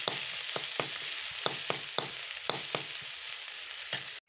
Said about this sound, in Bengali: তো এই তেলের মধ্যে মশলাটা একটু কষানো পড়ে।